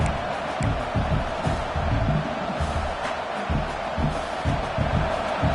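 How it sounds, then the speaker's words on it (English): A dense, roaring stadium crowd fills the air with constant cheering and shouting, loud and unbroken. "listen to this crowd noise. This stadium is vibrating."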